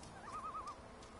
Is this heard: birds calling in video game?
yes